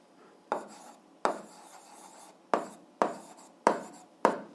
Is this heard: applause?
no